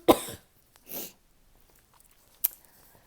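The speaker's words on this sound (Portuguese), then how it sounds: "Desculpa, gente, vou tossir." A woman coughs sharply once up close, followed by a softer throat-clearing huff and a brief sniff, with quiet pauses between.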